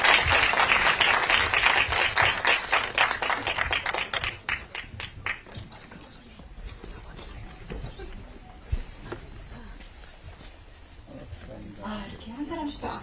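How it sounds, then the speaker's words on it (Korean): Audience applause at the Busan International Film Festival, loud, rapid clapping from a crowd for the first few seconds, then dying away into scattered claps, murmuring and voices talking in the hall. "여러분들 큰 박수 부탁드립니다"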